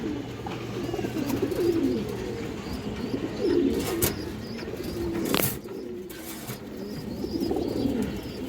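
Pigeons coo in a low, steady, repeating murmur at close range among a group of domestic fancy pigeons, with a few brief sharp knocks and no talk over it.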